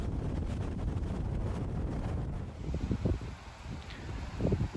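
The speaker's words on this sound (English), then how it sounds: "it's starting to get windy" Gusty wind buffets the microphone beside a Honda Goldwing Tour DCT motorcycle outdoors, a steady low rumble that breaks into louder irregular thumps in the second half, with no talking.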